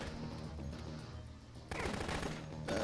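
Rapid machine-gun fire in the video game Dead Rising rattles in repeated bursts at moderate loudness, with a heavier burst kicking in partway through.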